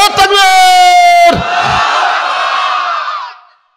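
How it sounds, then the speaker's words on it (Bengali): At a Bengali Islamic sermon, one loud, clear voice calls out briefly, and then a big crowd roars back the takbir, Allahu Akbar, in a sustained shout that fades after about three seconds. "এই জন্য তাকবীরটা দেওয়ালাম জোরে"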